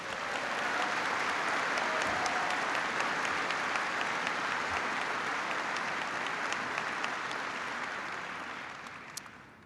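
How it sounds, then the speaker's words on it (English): Sustained, dense applause from a large crowd of troops at Fort Bragg during a presidential address, steady and loud for nearly ten seconds before tapering off at the end. "so give them a big round of applause."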